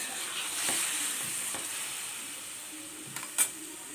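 Fried ingredients for a fish curry with cauliflower, potato and tomato sizzle softly in a pan, a faint continuous hiss with a few light scrapes and a small clack near the end.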